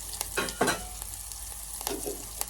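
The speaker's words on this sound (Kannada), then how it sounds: "ಅದಾದಮೇಲೆ ಕರಿಬೇವು ಒಗ್ಗರಣೆ ಹಾಕ್ತೀನಿ" Crackling sizzle of leaves hitting hot oil, with a few sharp bursts of spattering and stirring noises, close by and fairly quiet.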